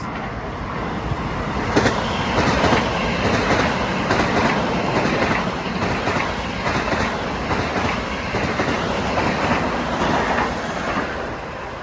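A Long Island Rail Road commuter train rumbles past a station at close range during morning rush hour, a steady loud roar of wheels on rails with rhythmic clicking from the track joints throughout.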